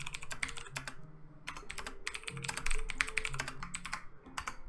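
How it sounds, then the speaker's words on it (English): Rapid keyboard typing close up, bursts of clicky keystrokes with short pauses between runs, no voices. "Sorry if that typing is extremely loud,"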